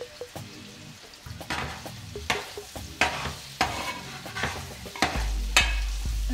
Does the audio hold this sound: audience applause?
no